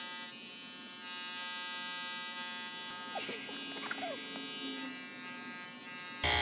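Electric clippers buzz steadily and close while shaving underneath a dog's arms during grooming, a constant whine throughout.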